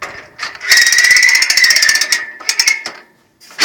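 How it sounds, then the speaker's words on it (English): Winch cables haul a 10-metre truss up into position, giving close, loud bursts of mechanical ratcheting and grinding clicks that run for a couple of seconds, pause briefly, then start again. "Using the winch cables to winch the 10-metre truss into position"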